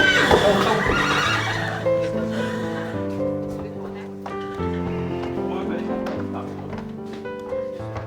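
Canadian horse at a boarding stable in Sainte-Marie-de-Salomé, one loud close neigh opening into a long harmonic whinny that fades over several seconds, with talk nearby.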